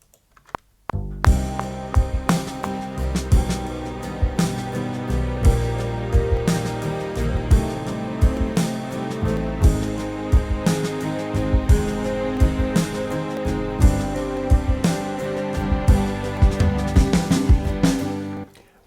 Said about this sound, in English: I've had a go at putting the Logic drums in,